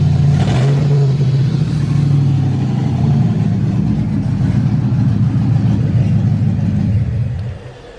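An LS-swapped Blazer engine running steadily with a loud, close, rough low rumble that wavers unevenly as it misfires, holding for most of the stretch before cutting off abruptly at the end; no one speaks.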